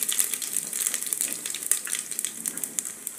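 Whole spices sizzle and crackle in hot oil, a bright, busy spitting sound with scattered pops, close by and steady throughout, with no talking.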